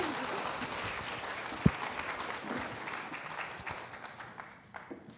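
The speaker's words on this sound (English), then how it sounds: "Please remember to hold your applause until after the debate." Scattered applause from a small audience at a school debate, fairly faint and fading out, with one sharp loud clap or knock partway through.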